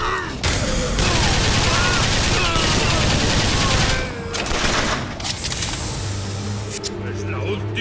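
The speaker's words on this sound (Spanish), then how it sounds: "Pues, líate a tiros." Heavy gunfire in Bioshock Infinite Remastered on PS4: a dense, loud fusillade of rapid shots and blasts fills most of the clip, easing into sparser shots and a low engine-like hum near the end.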